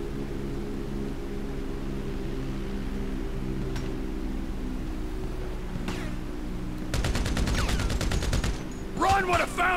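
Rapid bursts of automatic gunfire in Grand Theft Auto V, a sustained volley of loud shots over steady in-game engine drone, with a fainter shot earlier and a few scattered pops near the end.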